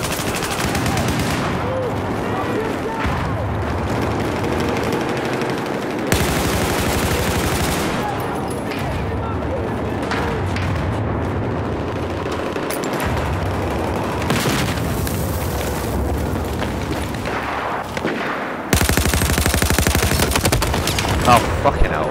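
Heavy Battlefield 4 gunfire rattles almost without pause, with loud automatic bursts and fusillades separated by brief lulls, and a sharper volley near the end.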